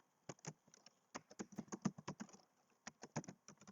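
Irregular clicking keystrokes on a computer keyboard, close and fairly quiet, with short pauses between bursts of typing and no voice.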